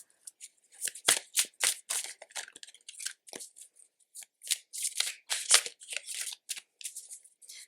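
A brand new, slightly sticky tarot deck is shuffled by hand in a quiet room, with irregular crisp riffles and soft card slaps close to the listener, and no voices.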